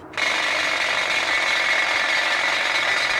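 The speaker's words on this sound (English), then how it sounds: "maybe the sound of this big drill will help" A loud continuous mechanical rattle starts abruptly and holds steady, like a heavy pneumatic drill hammering close by on a street.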